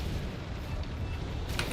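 An explosion in League of Legends rolls out as a dense, low booming rumble that holds steady for a moment and then tails off, with no voices over it.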